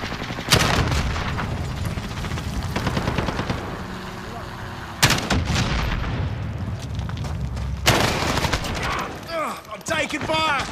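Automatic gunfire in a team deathmatch of the video game Call of Duty: Modern Warfare, sustained loud bursts with sharp shot onsets and booming impacts, while a player talks throughout.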